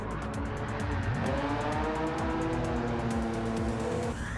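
A Porsche race car engine roars steadily in Gran Turismo 7, loud and continuous with gear-shift pitch sweeps rising and falling and faint tyre squeal during a circuit race.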